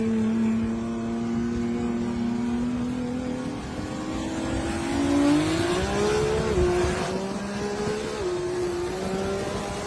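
A BMW 325i sleeper and a boosted 5.0 Mustang drag racing side by side, engines droning and climbing in pitch through gear changes, heard from a distance over about ten seconds.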